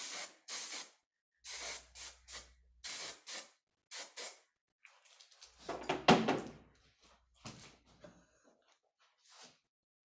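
Short, sharp hiss bursts of hair spray misted onto sectioned hair during a curling session, several quick sprays in a row followed by a longer spray and faint handling noises nearby.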